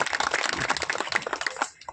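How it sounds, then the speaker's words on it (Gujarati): An audience applauds at a bhajan satsang in Bodal village, Khadiya area. The crowd's hand claps form a dense, moderately loud patter for about two seconds and taper off at the end. "એમને પણ એકવાર તાળીઓના ગળગડાટથી વધાવશું"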